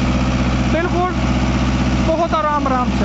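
A Mahindra Novo 655 tractor runs a 9-foot Param rotavator at creeper speed in black clay soil, a loud steady low engine drone with a rhythmic throb throughout, and someone speaks briefly over it.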